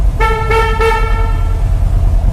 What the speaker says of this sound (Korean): 자, 크락션.